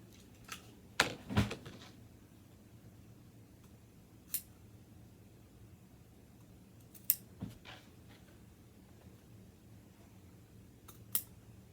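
Scissors cutting along lines of a fabric pattern for a circle skirt, a few scattered crisp snips and clicks spread over a quiet background, close and sparse.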